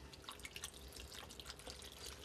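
Beef broth poured from a carton into a cooking pot, a soft continuous trickling and splashing of liquid, faint and close with no talking.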